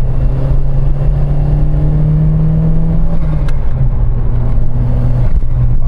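A Ford Escort Cosworth's turbocharged engine accelerates loudly and close up, its drone rising in pitch, dipping at a gear change, then climbing again, with no talk over it.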